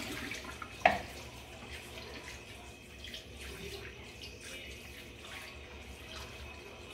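Water runs steadily from a tap into a pot, a soft continuous splashing stream after a brief clink near the start.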